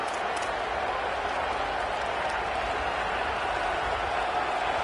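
A packed stadium crowd in a football video game roars continuously, a steady broadband wash of cheering and noise that holds at the same level from start to finish with no voices standing out.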